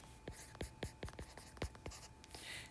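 Marker or chalk writing on a board during an organic chemistry lecture, a quick series of sharp scratchy strokes and taps in an irregular rhythm, close and moderately loud, with no talking.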